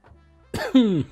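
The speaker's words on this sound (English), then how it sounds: "after yesterday I get these little coughs" A single short cough comes up close and fairly loud after a faint low hum, with a brief rough throat sound leading into it.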